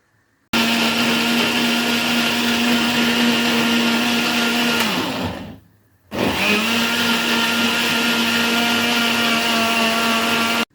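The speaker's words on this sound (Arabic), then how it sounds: "احنا ضربنا الخليط كله مع بعض اهو" An electric blender loudly whirs as it blends a turnip pickling mixture, running steadily, cutting off briefly near the middle, then starting again at full power until the end.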